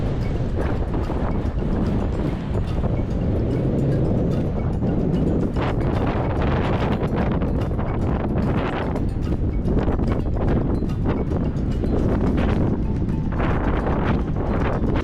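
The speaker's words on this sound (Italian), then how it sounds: "c'è tantissimo vento" Strong wind rushes across the hilltop ruins of Ait Ben Haddou, buffeting the microphone in a loud, continuous roar with constant gusty fluctuations.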